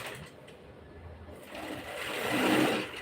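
A sewing machine stitches a garment seam from the hem up to the armhole, its steady mechanical whir running continuously and growing louder toward the end, with no talking.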